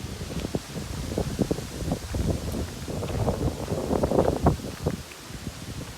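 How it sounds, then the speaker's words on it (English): Gusty wind buffets the microphone in uneven bursts, with a rustling, rushing texture throughout and no voices, at a campsite in Nebraska's Broken Arrow Wilderness. "Pretty windy today."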